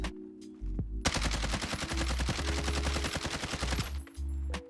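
A continuous burst of rapid automatic gunfire in the Aimlab shooting game, fired without recoil control, loud and steady for about three seconds between short gaps.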